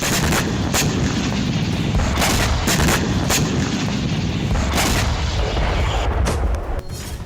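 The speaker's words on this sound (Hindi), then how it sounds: "जहां मौजूद रूसी नौसेना के जंगी बेड़ों पर यूक्रेन ने ताबड़तोड़ अंदाज में मिसाइलें बरसाई।" Missile strikes on Russian navy warships at the port of Sevastopol: loud repeated booming blasts and sharp cracks in quick irregular succession over a constant roar, with no talk.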